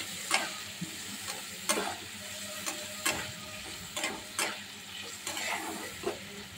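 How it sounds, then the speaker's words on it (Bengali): Spice masala frying and being stirred in a pan, a steady close sizzle broken by repeated scraping strokes of the spoon roughly every second, with no voices. "মশলাটা দিয়ে ভালো করে একটু কষে নেব।"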